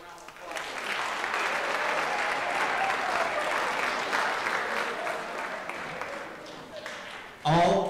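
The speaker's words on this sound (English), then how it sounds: "Give your eighth grade group a round of applause." An audience claps steadily for an eighth grade group at a school gathering, a dense, even roar of applause that holds for several seconds before a voice cuts in near the end.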